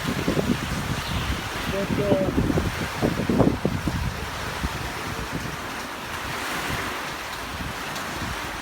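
Hurricane Ian winds gust and roar across an outdoor microphone, heavy buffeting rumble up close and loud, easing into a steadier rushing blow, with a person speaking briefly over it near the start.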